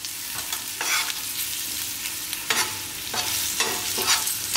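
Mixed vegetables with eggplant are stirred on a hot tawa, a steady sizzle broken by repeated scraping strokes of the spatula against the metal, close and clear with no voices.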